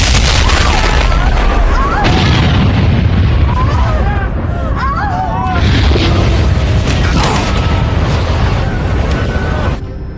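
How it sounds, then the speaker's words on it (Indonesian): A very loud explosion from a disaster film about Krakatoa rumbles in a dense, sustained roar with crackling debris and layered mechanical din, continuous for about ten seconds. "Tiba-tiba saja terdengar ledakan yang sangat keras."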